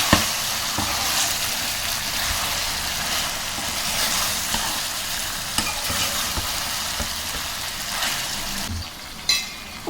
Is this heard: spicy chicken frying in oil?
yes